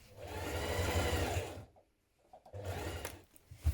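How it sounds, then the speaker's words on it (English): A sewing machine stitching a welt in place on a coat, a steady close whirring run of about a second and a half, a brief pause, then a second shorter burst. "So right side here to the welt, we're going to sew that in place."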